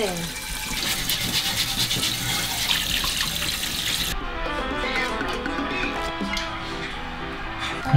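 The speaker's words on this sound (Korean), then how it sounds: "아 유럽 스타일 설거지네" Tap water runs steadily into a sink as dishes are washed, a continuous splashing rush under people talking close by.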